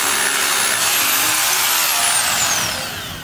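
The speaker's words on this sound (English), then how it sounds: "To drill your holes in the concrete, you use a 1/4 inch masonry bit." A power drill fitted with a 1/4 inch masonry bit bores into concrete, a loud and steady harsh grinding whine that holds for a few seconds before easing slightly at the end.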